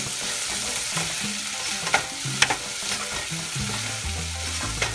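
Onions frying and being stirred in a pan for a dried anchovy (nethili karuvadu) fry: a steady close sizzle with repeated scraping stir strokes throughout, and no talking.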